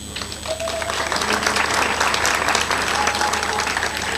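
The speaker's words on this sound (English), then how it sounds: "Make sure you clap" A graduation crowd at a medical training college claps and cheers in a loud, sustained burst, dense hand clapping rising and holding steady, with a few voices calling out within the noise.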